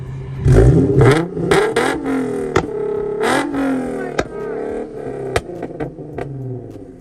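A loud Infiniti Q50 engine with a pop-and-bang tune revs repeatedly in sharp bursts, with crackling pops between revs, close by and with no talking.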